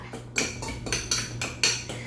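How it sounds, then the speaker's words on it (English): Fresh strawberries being mashed in a bowl for homemade lemonade, a utensil scraping and clinking against the bowl in a steady rhythm of about four close strokes, with no talking. "So whatever fruit you're using, get it all mashed up."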